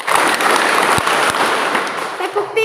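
A church congregation at a parish drama performance claps together in a group rhythm, a loud burst of many hands filling the room with a few sharper separate claps standing out.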